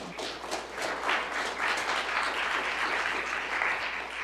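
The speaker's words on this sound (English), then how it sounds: "let's give a round of applause for Deacon Duncan." Sustained applause from a church audience at Oakland Baptist Church during a Martin Luther King Jr. Day of Service program, a steady dense wash of clapping at moderate distance lasting the whole stretch with no talk over it.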